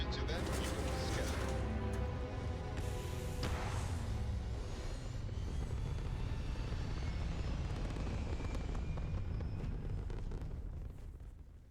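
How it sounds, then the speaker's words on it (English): Spaceship liftoff in the Starfield video game: a loud, sustained rocket roar with deep rumble and hiss that holds steady for about ten seconds before tapering off at the end. "Liftoff initiated, Captain. Time to venture into that beautiful sky."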